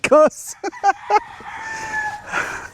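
Young roosters at a chicken farm crow loudly nearby, one clear cock-a-doodle-doo with broken calls after it, followed by fainter crowing and farmyard noise behind.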